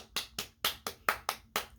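Hands clap sharply about seven times in an even, quick rhythm, close and fairly quiet with brief pauses between strikes and no voices.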